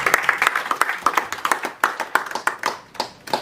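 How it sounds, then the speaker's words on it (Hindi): A gathering applauds the Gayatri Parivar after a puja and deep yajna event at Parul University in Vadodara, with sharp, close claps in an uneven, patchy rhythm from a modest group, tapering off near the end. "गायत्री परिवार के लिए एक बार जोरदार ताली"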